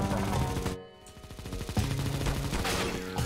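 Gunfire from a weak, low-tier gun in CS:GO, a sharp burst of shots up close, then a pause and more rapid shots.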